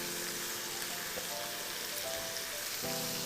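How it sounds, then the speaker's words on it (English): Shrimp sauté with brown sugar in a hot pan, giving a faint, even sizzle like light rain that runs steadily throughout with no talk. "And I'm gonna throw in my shrimp. We're gonna saute this for a bit."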